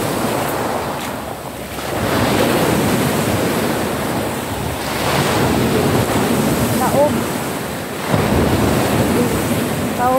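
Seawater surges where the incoming tide meets a freshwater river, a loud continuous wash of waves heavily buffeted by wind noise on the microphone.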